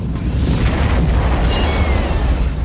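Explosion effect portraying the Big Bang: a loud, sustained deep roaring boom that rumbles without break and swells again midway, heard alone with no voices.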